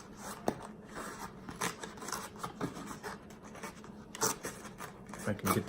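Cardboard and film packaging of a Banquet Mega Deep Dish Buffalo Chicken Mac n Cheese frozen pot pie being torn open at a tough perforation, giving close, intermittent scratchy rips and rustles between quiet moments, with someone talking.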